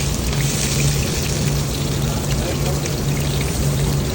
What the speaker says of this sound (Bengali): এই যে তেলের মধ্যে পেঁয়াজ দিয়ে দিলাম